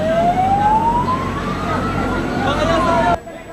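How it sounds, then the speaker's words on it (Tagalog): An ambulance siren rushing an injured woman from a van to hospital, a loud wailing tone rising and falling over traffic noise, close by and cutting off abruptly at the end. "Agad siya isinakay sa ambulansya at isinugod sa ospital."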